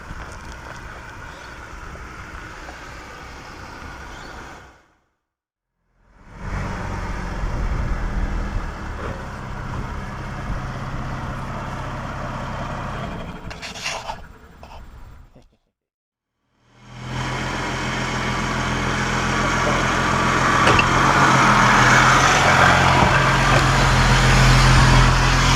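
An Audi A5 80 race car rolls in at a racetrack, its engine a rough, droning rumble under heavy wind buffeting the microphone, with two brief cuts to silence before the engine swells louder near the end.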